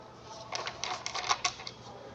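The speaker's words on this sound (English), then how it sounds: "As we're continuing to break this deck in with more shuffling" A deck of tarot cards being shuffled while still being broken in, giving a quick run of crisp, papery riffling clicks in uneven bursts, close and fairly quiet over a faint background hum.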